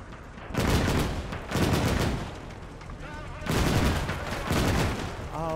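Anti-aircraft guns fire in bursts in the video game OstFront, four heavy rattling volleys of rapid shots with brief pauses between, loud and close.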